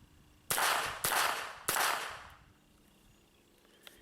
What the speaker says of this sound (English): So this is what it sounds like without the suppressor.